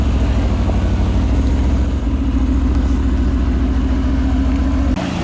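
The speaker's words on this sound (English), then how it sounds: "GTR cruising through." Mercedes-AMG GTR engine rumbling steadily close by as the car cruises past, a low, continuous drone with no talk over it, cutting off abruptly at the end.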